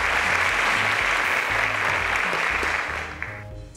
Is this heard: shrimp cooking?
no